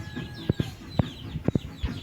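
Several short clucks from a chicken, in pairs and singles, over a low barnyard background.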